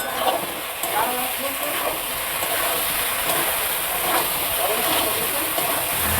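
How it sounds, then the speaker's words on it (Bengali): Ground spice paste for a potol paneer curry sautés in a pan over low flame, giving a steady, close, hissing sizzle that continues without a break. "মশলাটাকে কষিয়ে নেব।"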